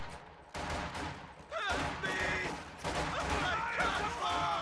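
Flak half-track firing in a World War II strategy video game: rapid bursts of anti-aircraft gunfire crackle amid game sounds, with a commentator talking over them.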